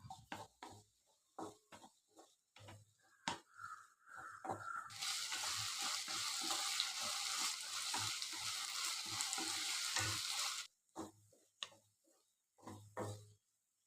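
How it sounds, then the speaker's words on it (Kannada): Onion, green chili and chopped tomato hit hot oil for a bhindi dish, bursting into a loud, steady sizzle for several seconds, framed by sparse utensil clinks and taps before and after. "1-2 ನಿಮಿಷ ಎಣ್ಣೆಲೆ ಫ್ರೈ ಮಾಡ್ಕೊಳ್ಳೋಣ"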